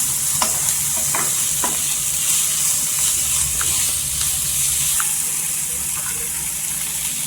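Dry shrimp chutney sautés with turmeric powder in a hot pan, a constant loud sizzle broken by occasional scraping stirs, with no voices.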